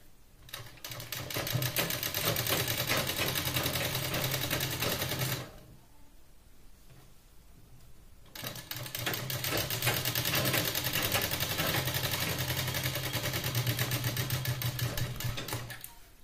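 Sewing machine stitching a blouse runs in steady, fast rapid-fire bursts, stops for about three seconds in the middle, then resumes at the same even pace with no voices.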